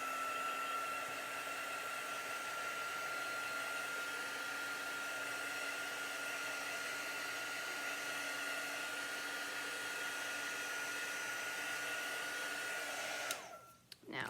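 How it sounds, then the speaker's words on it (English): Hair dryer blowing on chalk paste in a craft project, a steady loud whirring hum with a constant high whine that runs unbroken for about thirteen seconds before abruptly switching off. "Let me dry this."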